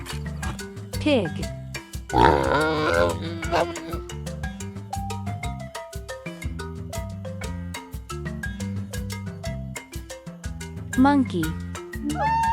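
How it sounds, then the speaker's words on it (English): A pig grunts and oinks in quick repeated snorts over a steady backing tune, with a brief squeal-like burst early and a voice near the end. "Pig."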